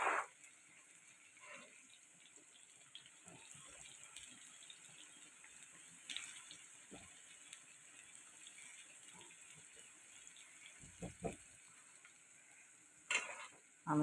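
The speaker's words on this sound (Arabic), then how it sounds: "وهنا الفلفل اهو هقليه" Diced peppers frying in a pan for moussaka, a faint steady sizzle with occasional stirring scrapes and clinks.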